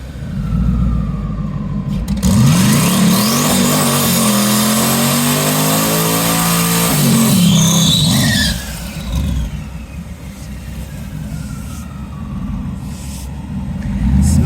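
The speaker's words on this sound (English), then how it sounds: "Smoky burnout." A garage-built twin-turbo Camaro holds a loud sustained roar through a smoky burnout, revs rising and falling with tire squeal mixed in, then the engine note drops away and swells again near the end.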